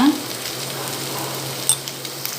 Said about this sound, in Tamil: இஞ்சி பூண்டு பேஸ்ட்டையும் உள்ள ஆட் பண்ணிக்கலாம். நல்லா வதக்குங்க.